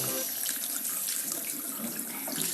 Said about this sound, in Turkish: Suyumuz çok aktı hadi.